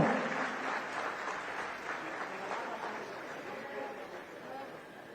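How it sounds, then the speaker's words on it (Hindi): An audience at a student showcase event in Ranchi claps steadily, a moderate, even wash of applause that fades slightly toward the end, with speech carrying over it. "जोरदार तालियां हो"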